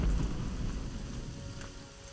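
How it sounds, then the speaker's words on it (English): Soft steady rain falling in the Morrowind video game, a faint continuous patter with low rumble underneath and no voices. "And it's raining again."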